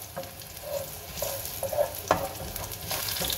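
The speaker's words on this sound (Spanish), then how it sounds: "Después de estarlo sazonando la cebolla en el sartén," Onion sizzles in a frying pan while being seasoned and stirred, a steady close crackle with soft scraping and occasional spatters, no voices.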